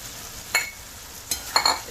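A spoon stirs fried okra into a sizzling tomato-onion masala in a pan, giving a few scraping clinks and soft rustles over a quiet, steady sizzle.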